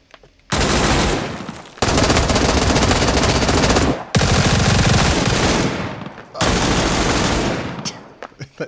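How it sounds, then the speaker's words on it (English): A machine gun fires in a shooting video game: long, loud, dense bursts of rapid automatic fire, four sustained volleys separated by brief gaps, close and dominating, with no talk over them. "it's that cheater with a machine gun"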